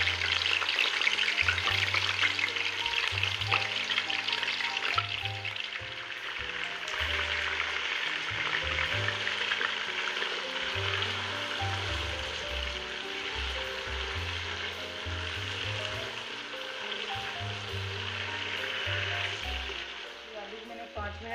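Large chunks of potato sizzle steadily in hot oil for an Irani biryani, a continuous bright frying hiss with occasional stirring, under a low intermittent hum, with no talk.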